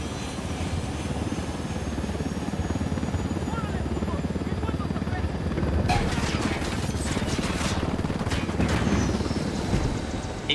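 A helicopter flies in the video game Ghost Recon Wildlands, its steady, loud rotor and engine drone continuous throughout and swelling stronger over the last few seconds.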